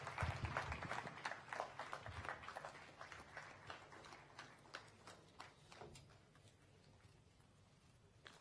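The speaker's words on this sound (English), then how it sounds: "Why don't we keep clapping for this great achievement?" An audience at Makerere University's 71st graduation ceremony claps in a large hall, a dense patter of applause that starts strong and gradually thins and fades.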